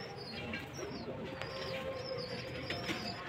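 Domestic pigeons in a home loft, including a nesting pair, giving soft low cooing over a quiet background hum, close and gentle throughout.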